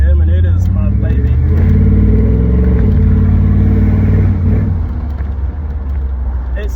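A daily-driven Ford Fairlane with a worn rear end that needs rebuilding, its engine rumbling deep and loud at idle, rising in a couple of revs before settling, with a voice talking faintly over it.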